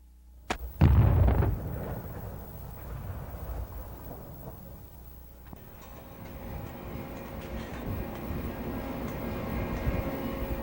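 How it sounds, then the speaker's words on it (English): Explosive blasting breaks up earth and rock above a coal seam at a surface mine: a sharp loud blast followed by a deep rolling rumble that fades and swells again. "The area to be mined is then blasted to break up the earth and rock above the coal seam."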